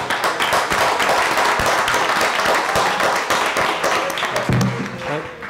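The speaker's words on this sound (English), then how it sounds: "Let's have a round of applause for our team." A crowd claps steadily for several seconds, dense and close, with some voices mixed in near the end.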